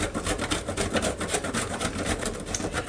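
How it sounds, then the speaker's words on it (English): Cold butter is grated into flour on a kitchen grater, a close, continuous rasping scrape in quick back-and-forth strokes with no talking. "just grate your butter right on in there if you can"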